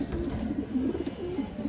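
Large Giribaz pigeons, a male shown among breeding pairs, coo in a low rolling rhythm, several short throaty phrases repeated close by with no voices.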